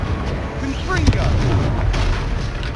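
A Confringo fire spell is cast in Hogwarts Legacy, giving a loud burst and rumbling blast over a dense, busy game soundscape that holds steady across the moment.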